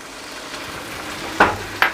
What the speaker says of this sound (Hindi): इसको 1 मिनट तक मैं पकाऊंगा ताकि अच्छी अदरक का कच्चापन ख़त्म हो जाए।